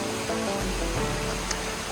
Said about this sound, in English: Little waterfall